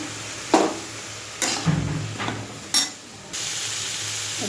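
Green chilli, cumin and turmeric sizzle in a hot pan, a steady soft frying hiss broken by a few sharp stirring scrapes, close and fairly quiet.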